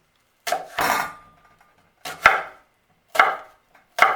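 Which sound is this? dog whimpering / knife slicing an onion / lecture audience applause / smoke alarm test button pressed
knife slicing an onion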